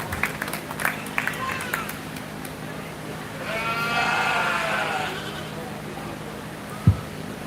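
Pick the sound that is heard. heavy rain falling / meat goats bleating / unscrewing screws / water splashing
meat goats bleating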